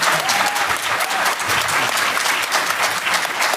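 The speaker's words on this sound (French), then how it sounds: "Est-ce qu'on peut les applaudir?" An audience claps steadily at a public event on homelessness services, a dense wash of many hands sustained throughout at a fairly loud, even level with no voices over it.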